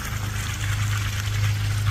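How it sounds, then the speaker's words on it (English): A small pond waterfall spilling out of a planted bog area into a koi pond, a close, continuous splashing trickle over a steady low hum, with no talking. "Here's the waterfall coming down out of our"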